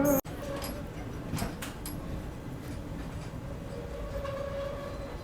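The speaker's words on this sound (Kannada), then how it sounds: "ತಿರುಪತಿ ಎಕ್ಸ್ಪ್ರೆಸ್ ಎಂಟ್ರ್ ಆಗೈತೆ ರೀ ಈಗ ಬಿಡದಿಗೆ" The Tirupati Express, running Chamarajanagar to Tirupati, rolls steadily along the rails near Bidadi with a continuous close rumble and faint rhythmic clatter throughout, and a brief sharp knock right at the start.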